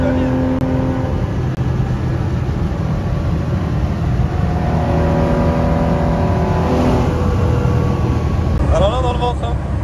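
A Porsche 914-6 flat-six engine accelerates on a desert drive, with a steady, loud drone and rising pitch under talking voices.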